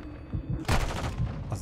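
Gunfire in the multiplayer shooter Call of Duty: Modern Warfare II, a few soft early pops followed by a loud, sharp shot with a ringing tail and scattered quieter bursts after it.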